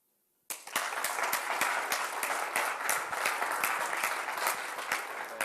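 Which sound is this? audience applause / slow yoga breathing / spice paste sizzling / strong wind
audience applause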